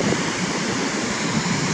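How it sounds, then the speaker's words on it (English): Ocean waves surging onto a beach at a resort in Buguey, Cagayan, a steady broad wash of surf with constant rushing water, loud and close with no breaks. "the waves, wave action pummels us"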